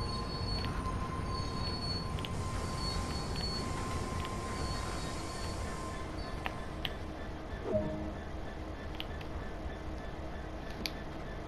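A freight train hauling aggregate rolls downhill in the simulator game Train Sim World, a steady rumbling roll of wheels on rails with metallic squeals and clanks, heard from the cab with no talk.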